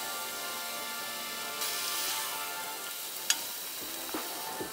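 Tomatoes sizzle in a pan with a plant-based breakfast hash, a steady close frying hiss with a sharp tap and a few small clinks near the end.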